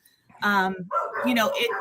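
Pet dogs bark in a home, two quick bursts of yapping close by, nearly filling the short moment with no other sound.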